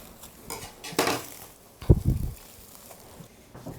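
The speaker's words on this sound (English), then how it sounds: "I'm just gonna put this in a standard roasting pan." Pork shoulder for pernil set down into a standard metal roasting pan, bringing a few clattering metallic bumps and scrapes, one heavier thud in the middle, close by with no talking.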